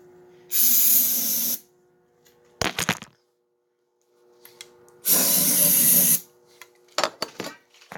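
Two long hissing bursts of carburetor cleaner aerosol spray on a 1989 Kawasaki KLR650, each about a second, separated by pauses with a few clanks and knocks from handling tools nearby.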